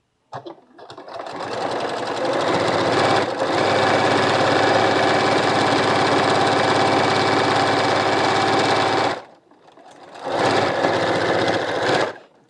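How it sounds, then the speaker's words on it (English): A sewing machine runs continuously for about nine seconds stitching a quilt block seam, a close, loud, even mechanical whir, then stops briefly before a second, shorter burst of stitching. "I'm going to stitch it one more time"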